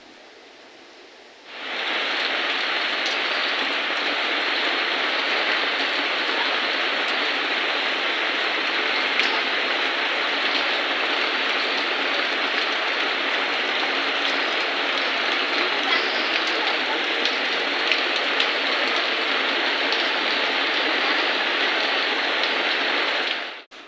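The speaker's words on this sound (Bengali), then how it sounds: "প্রচুর পরিমাণে বৃষ্টি হচ্ছে" Heavy, steady rain pours down on a village in Naogaon, a dense unbroken hiss that starts abruptly after a quiet moment and holds loud and even, with no voices.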